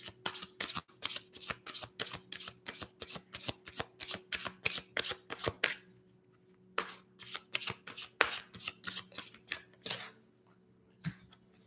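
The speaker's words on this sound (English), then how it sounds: "So let's take out 3 more cards for Pisces." Tarot cards riffled and shuffled in quick rapid bursts, close and crisp, with a short pause midway before the shuffling resumes, then a few slower single card flicks near the end.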